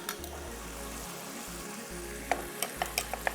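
Red chillies and spices sizzling in a pan, a quiet steady fry with a few sharp clicks of a spoon stirring near the end, no talking.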